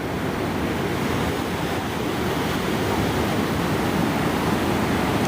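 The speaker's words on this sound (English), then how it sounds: "I'll let you check out these waves." Ocean waves surging onto Mission Beach in San Diego, a continuous loud wash of surf with wind buffeting the microphone, no voices.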